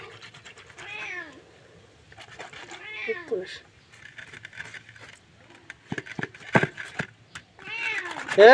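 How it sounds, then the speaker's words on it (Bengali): A cat meows repeatedly beside a pond where tilapia are being caught with a net and fried, several clear rising-falling cries spaced across the stretch with quieter outdoor noise between them and a final loud call at the end. "ম্যাও"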